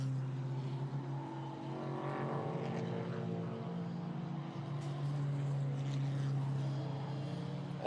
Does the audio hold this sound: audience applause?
no